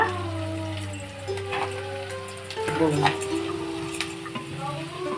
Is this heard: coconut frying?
yes